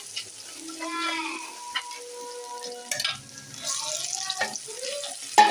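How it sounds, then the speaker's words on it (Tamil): Tomatoes frying in a pan with ginger garlic paste for a spicy country chicken curry, a steady soft sizzle with stirring scrapes and clinks, while a voice speaks over it. "இப்போ நம்ம இதில் தக்காளியை சேர்த்துக்க போகிறோம்."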